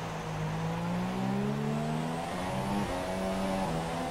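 A Formula 1 car's engine in the F1 2017 racing game, its second engine after the first wore out, drones steadily and loudly with harmonics rising and falling through gear changes for about four seconds, with no talk over it.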